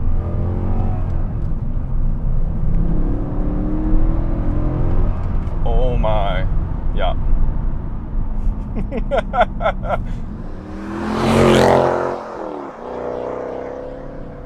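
The engine of a manual-swapped pre-facelift Mercedes C63 AMG drones steadily under cabin noise, with a brief surge of revving near the end; someone speaks a few words over it.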